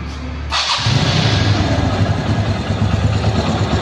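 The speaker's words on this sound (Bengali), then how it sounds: "এটা কিন্তু ফ্রি অ্যাক্সেলেটারের ইঞ্জিনের সাউন্ড, ফ্রি অ্যাক্সেলেটারের সাইলেন্সারের।" A 2017 TVS Metro Plus 110cc motorcycle with 54,682 km on it starts up abruptly and settles into a loud, steady idle with a throbbing exhaust beat, with no talk over it.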